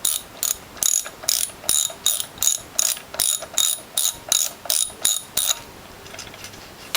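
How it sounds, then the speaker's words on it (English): A ratchet wrench loosening pump bolts on a WHF or Norwalk juicer base plate, clicking in about a dozen quick, even bursts close by, then stopping. "So let's remove the pump bolts. The pump bolts and the reservoir bolts."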